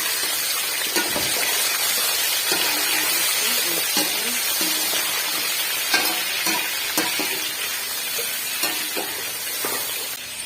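Chicken sizzling and frying in a pot for spicy chicken pulao, a steady loud crackling hiss with occasional stirring clatter.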